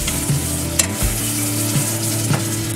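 Turmeric and chilli paste frying in a pan for gobhi masala, a dense steady sizzle broken by occasional spoon scrapes and clacks against the pan, close and loud with a low hum beneath.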